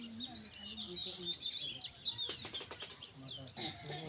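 A small fista bird chirps around its nest in a home kitchen garden: faint, quick high twittering notes repeated in short bursts, with brief flurries, heard at a distance and quietly.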